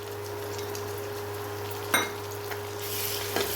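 Onion, ginger and tomato masala frying in a pan, with a soft continuous sizzle under a steady background hum, a sharp clink of the spoon against the pan near the middle and another scrape of stirring toward the end.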